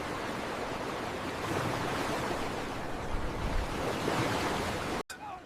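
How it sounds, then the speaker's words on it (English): Ocean waves and wind on the open sea, a loud continuous wash of surf and blowing noise that swells slightly midway before cutting off abruptly near the end, no voices. "Caravels braved the ocean winds."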